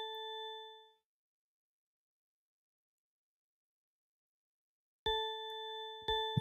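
Loud bell tone played in LMMS music software: a ringing, bright strike that fades within a second, then after a silent gap two more sharp strikes ring out in quick succession.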